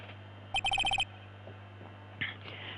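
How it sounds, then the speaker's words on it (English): Cell phone ringtone in the Ace Attorney: Justice For All video game, a rapid series of six bright electronic beeps in one burst over a steady low hum, followed later by brief chiming game sound effects. "We are going to call my cell phone now"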